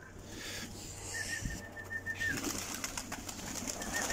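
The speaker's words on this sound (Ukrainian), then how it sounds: "Хлопец мне говорит, папа, голуби." Pigeons at a breeder's loft make soft bird calls, cooing and a whistling note, fairly close and alone without talk.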